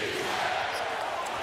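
A basketball arena crowd roars after a Celtics three-pointer against the Mavericks, a loud, broad wash of cheering sustained throughout the short stretch.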